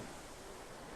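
Ocean waves wash onto Pelican Bay Beach in North Naples, Florida, as the tide comes in: a faint, steady broadband hiss of surf with soft wind, no voices.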